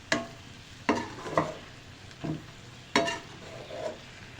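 Chicken karahi with crushed spices being stir-fried in a wok, a spoon scraping and stirring in several separate strokes over a low sizzle, close and fairly quiet, with no talking.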